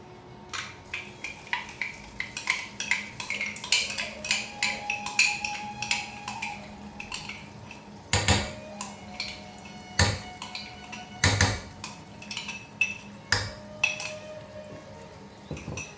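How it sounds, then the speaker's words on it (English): A spoon stirs and scrapes ingredients roasting in ghee in a metal pan for traditional burfi, making a busy stream of close clinks and scrapes with several sharper knocks against the pan, no talking. "I'll just add the ghee and roast it in the ghee."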